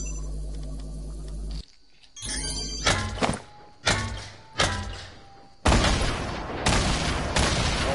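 Grenade launcher shots and blasts in a video game: several heavy thumps, each with a short fading tail, then a louder explosion that rumbles on to the end.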